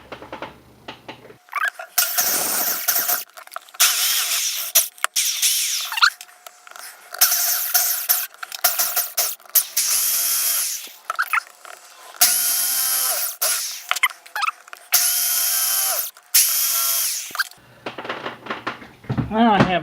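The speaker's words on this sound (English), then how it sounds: "Now we need a drill." A handheld power drill bores several holes in sheet metal, starting and stopping in repeated high whining bursts with short pauses between them, loud and close.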